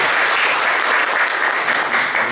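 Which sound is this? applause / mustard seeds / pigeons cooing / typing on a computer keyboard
applause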